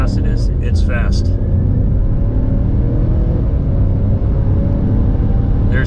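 A 2021 Mazda CX-9 SUV, a 4,400-pound vehicle with a turbocharged four-cylinder, accelerates from a standstill, heard from inside as a constant loud, broad engine and road rumble.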